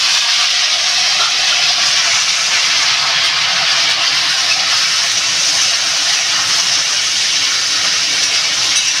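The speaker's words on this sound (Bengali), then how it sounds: "আমি এবার পটলটা ঢেলে দেবো।" Pointed gourd is poured into a pan tempered with black cumin seeds and fries with a loud, even hiss of oil that holds steady and close throughout.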